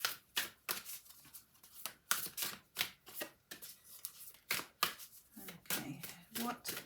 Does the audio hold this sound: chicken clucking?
no